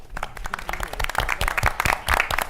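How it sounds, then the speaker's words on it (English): An audience at a board of education meeting gives a round of applause for the trustees, a close, uneven burst of individual claps from a modest group, loud and irregular without speech. "We want to give you a round of applause."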